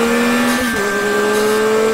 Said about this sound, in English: the unfiltered power of the bike can be heard straight from the soul of the new MT-09